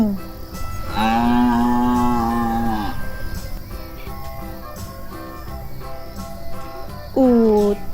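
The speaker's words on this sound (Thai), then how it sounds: "วัวกระทิง" Wild gaur cattle lowing in two long, loud moos, the first sustained for about two seconds, a shorter one near the end, over a busy backdrop of other animal and ambient sounds.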